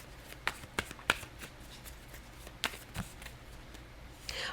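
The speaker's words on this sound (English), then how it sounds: "Let me pull some more cards though." Tarot cards riffle and snap as they are shuffled and pulled from the deck, a few crisp flicks and slaps over a quiet room background, soft and close with no talking.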